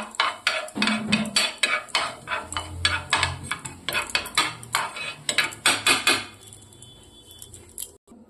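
Black cumin seeds being stirred in a metal pan, a run of close, rhythmic scraping and clinking strokes of a spoon against the pan that stop near the end, leaving quiet, no talk.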